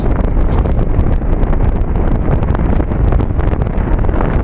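A 1998 Trane XL1800 5-ton heat pump runs in cool mode with a loud, steady rumbling drone from the compressor and outdoor fan, recorded close, heavy and continuous with wind-like buffeting.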